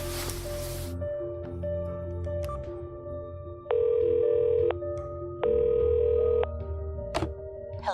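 A phone call rings out in the video game Cognition: two evenly spaced ringback tones, each lasting about a second, over a quiet electronic background hum.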